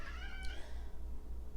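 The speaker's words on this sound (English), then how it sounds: "That was my cat checking out some birds." A cat meows at birds, a single short, fairly quiet meow with a rising whine, heard close by with no talking.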